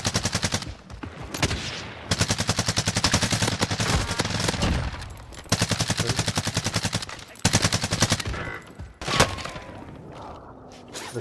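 Video game gunfire comes in long, loud, close bursts of rapid automatic shots with brief pauses between volleys and a final heavy single report near the end.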